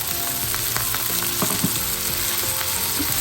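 Chopped tomatoes and chickpeas sauté in a pan for a Tamil elephant-yam chickpea curry, a loud steady sizzle and crackle with a few soft stirring scrapes, close by and without talk.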